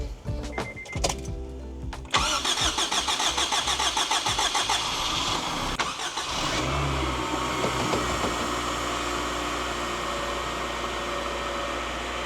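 A Honda K20Z1 engine in a 2006 Acura RSX Type-S fires up for the first time: a few clicks and starter whir, then it catches and settles into a steady, fairly quiet idle.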